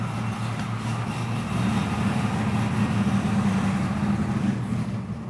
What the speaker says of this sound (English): That gives it that choppy idle